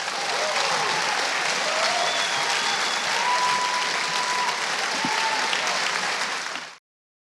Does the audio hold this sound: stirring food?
no